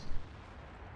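A tank cannon shot from the T110E4 tank destroyer in World of Tanks, one booming low blast at the start that leaves a rumbling tail, fairly quiet overall with no voices.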